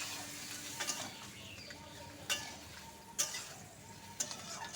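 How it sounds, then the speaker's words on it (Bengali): Crab curry with malabar spinach and pumpkin is stirred in a pan: a steady low sizzle, with a few sharp spoon-on-pan scrapes and knocks spaced about a second apart, and no talking. "এখন একটু নাড়াচাড়া করে মিশিয়ে নিলাম"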